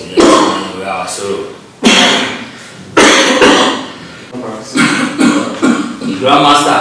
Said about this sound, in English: I still have this little cough